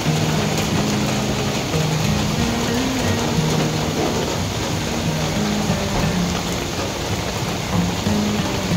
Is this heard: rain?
yes